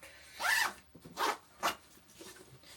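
A zipper on a packed travel bag is pulled in three quick, close rasping strokes, with a fainter fumbling sound trailing after.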